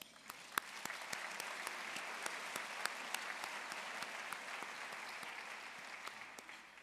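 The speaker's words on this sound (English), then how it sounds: "give yourself a round of applause" Sustained applause from a seated audience at an environmental nonprofit's annual luncheon, a dense, steady wash of many hands clapping with a few sharper claps standing out, continuing evenly throughout at moderate distance.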